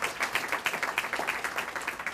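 An audience at a science and leadership awards ceremony gives a round of applause, a steady, fairly faint wash of clapping with a roughly regular rhythm, heard alone without voices.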